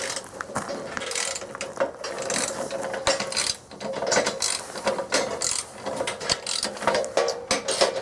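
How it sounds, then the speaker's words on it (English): A ratchet wrench tightening bolts on the steel track of a Woodland Mills HM130Max sawmill during assembly, with rapid continuous clicking that runs steadily through the whole stretch, close and loud. "Lots of bolts to tighten up."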